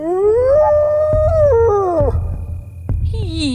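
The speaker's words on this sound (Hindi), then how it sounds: "ये तो वो हायना की आवाज है।" A white hyena lets out a loud, close howl that rises and wavers, holds, then drops away before a couple of shorter yelping cries follow.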